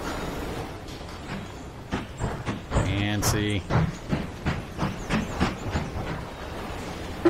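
A freight train runs in the rail strategy game Mashinky, giving a loud rhythmic clickety-clack of wagons over rail joints with a steady rumble, and a brief spoken word passes over it.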